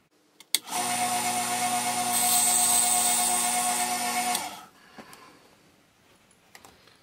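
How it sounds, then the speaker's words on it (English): A power tool whines steadily for about four seconds on a wooden strake being shaped with a table saw and sander, starting abruptly, swelling slightly midway, then cutting off, followed by quieter workshop clatter. "we're still going to cut it on the table saw, but then adjust it with the sander"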